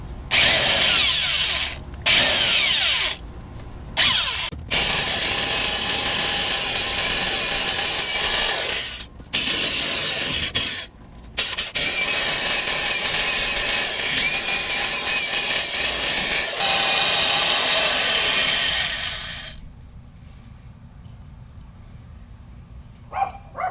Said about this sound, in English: we are going to use our handy dandy old school Craftsman drill and drill these things out so we can remove